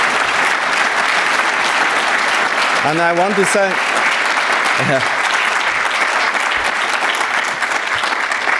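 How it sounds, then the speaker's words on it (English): Steady audience applause fills the hall for the editor-in-chief and local chair at a talk on coevolution in natural and artificial systems, with a voice briefly speaking over the clapping midway. "So can you just put your hands together?"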